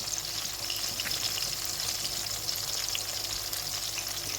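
Beef steaks sizzle in a hot frying pan with sprigs of rosemary, a continuous bright crackle of fat spitting evenly and close up, with no talking over it.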